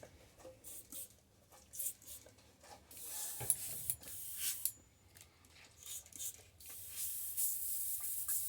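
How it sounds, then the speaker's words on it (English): An airbrush is cleaned out after thinned paint for a crackle shad lure pattern, giving several short, faint hissing sprays with pauses between them and a longer burst toward the end. "I'll clean out the airbrush, which don't take very long when you thin this out."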